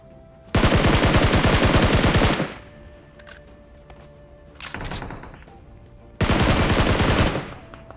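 Automatic gunfire in the mobile game PUBG Mobile comes as a long, loud rapid burst, then a fainter short burst, then another loud rapid burst.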